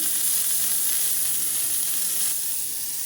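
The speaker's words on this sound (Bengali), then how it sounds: "এবারে এগুলোকে সবগুলো একসাথে ভাজা করব" Steady, loud sizzling of potatoes frying in a hot pan, a continuous hiss with no breaks and no voices.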